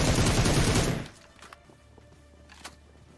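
A loud, rapid burst of gunfire in a battle royale shooter video game lasts about a second, then falls to near quiet with a few sharp, isolated clicks and thumps.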